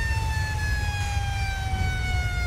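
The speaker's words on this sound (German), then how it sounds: "Wir machen mal ein bisschen unsere Sirene an" A police car siren wails in Grand Theft Auto 5, a loud, continuous, slowly falling electronic tone over a low engine rumble.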